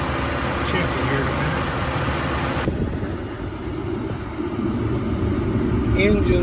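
A Dodge Nitro engine runs steadily with its air conditioning on, giving a continuous mid-level hum and rumble with no breaks for several seconds.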